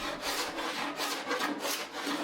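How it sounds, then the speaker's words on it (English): A slightly convex-bladed hand scraper works across wood, taking off leftover hot glue in steady back-and-forth rasping strokes, close and continuous with no talk. "This scraper has a slightly convex blade, so it really allows me to get all the final glue off"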